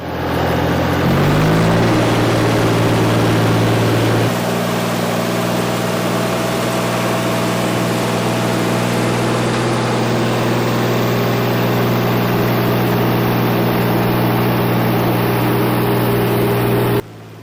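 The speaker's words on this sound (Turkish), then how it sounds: "altımdaki traktör Massey Ferguson 135'lik." A Massey Ferguson 135 tractor's 44-horsepower engine runs steadily at a low, droning idle, loud and close, with a slight shift in pitch early on and then a constant rumble.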